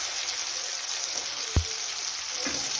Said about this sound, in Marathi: तर अशा प्रकारे सर्व वांगी आपण तेलामध्ये फोडणीमध्ये टाकलेले आहेत.